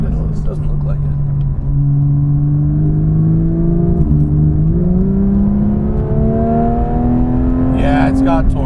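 A Porsche 992 GT3 Touring with a naturally aspirated 4.5L engine accelerates, its steady engine tone climbing gradually in pitch throughout. The drone is loud, close and continuous, heard from inside the car with a brief shift in the middle.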